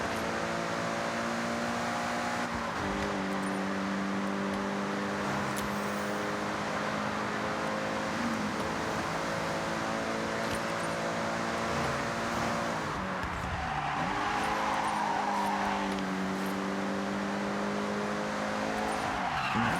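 A car with a CVT gearbox drones steadily in a racing video game, its engine note holding a flat, stepped pitch that rises and resets a few times, with occasional tire noise and no voices.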